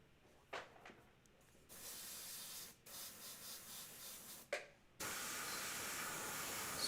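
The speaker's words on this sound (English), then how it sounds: "Spraying off my color." Paint sprayer blasting color in a steady, close hiss, with a few short puffs early on before a long sustained spray at the end, no talk.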